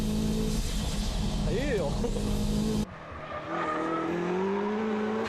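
A tuned car with over 300 horsepower runs a Japanese mountain pass, its engine droning loud and steady with a rising tonal sweep before the sound cuts to a quieter interior roar; a voice speaks briefly.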